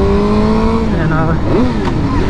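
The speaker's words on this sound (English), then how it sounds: "give it more gas, so the rev would be louder" A manual-transmission car downshifting, its engine note rising and falling in pitch through gear changes, heard loud and close with a person talking over it.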